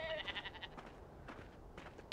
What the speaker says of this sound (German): Sind Schafe.